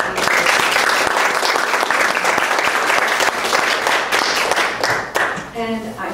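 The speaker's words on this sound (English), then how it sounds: "I would like to give them a big round of applause, if you can, for tackling this issue this morning" A big round of applause from the audience for panelists at a panel discussion in Phoenix, Arizona. Sustained, dense clapping with individual claps audible, tapering near the end as a voice starts speaking.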